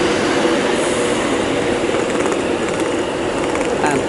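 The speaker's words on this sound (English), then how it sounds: "And there goes the class 390 Pendolino" A Virgin Trains class 390 Pendolino departs Watford Junction, a loud, close rumble of wheels on rails with a brief high squeal, while the train rolls steadily past.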